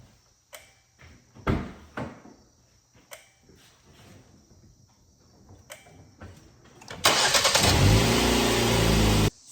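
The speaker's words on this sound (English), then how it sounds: "So let's go ahead and see if this will start." A car is jump-started with an AVAPOW TJ58 portable jump starter: a few clicks and thumps, then the engine cranks briefly and catches, settling into a loud, steady running roar close by.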